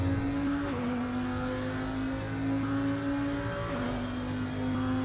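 A loud Audi 5-cylinder race car engine from the RaceRoom racing game holds a steady high drone, with pitch dips at two gear changes, running alone throughout.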